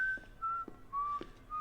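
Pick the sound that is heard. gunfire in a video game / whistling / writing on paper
whistling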